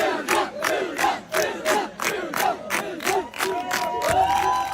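Crowd cheering in a rhythmic chant, the Punjabi singer's trademark line "The Punjabis have arrived" shouted in repeated loud bursts by many voices together.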